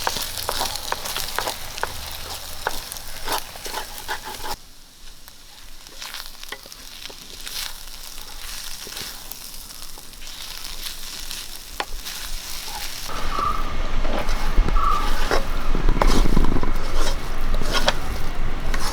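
Beetroot and egg thoran, seasoned with salt and pepper, sizzles in a pan while being stirred. Steady frying hiss is punctuated by scraping stirs, dips briefly, then grows louder toward the end.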